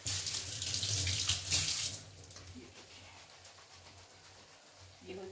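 Water from boiled suran (elephant foot yam) poured off into a sink, a steady splashing rush for about two seconds that then thins to a faint trickle, with a brief clatter near the end.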